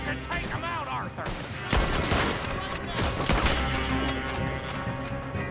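Gunfire in Red Dead Redemption 2, a dense run of overlapping shots and louder bursts near the two- and three-second marks, with hoof clatter and a voice over it.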